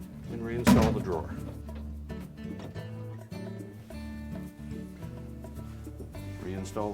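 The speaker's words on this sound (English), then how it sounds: "And reinstall the drawer." A crisper drawer is pushed back into a GE refrigerator after a right-hand drawer slide repair, giving one solid plastic thunk early on, followed by faint rubbing under soft background music.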